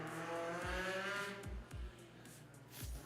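A fast car on a solo autocross run in the Expert Open category at a Cebu racing event, its engine revving loudly and rising through gear changes, with several sharp low thumps as it shifts and accelerates.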